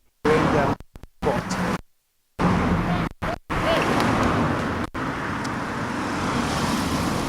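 Road traffic noise from cars on a busy road, a steady broadband roar broken by several abrupt cuts, heard under people talking.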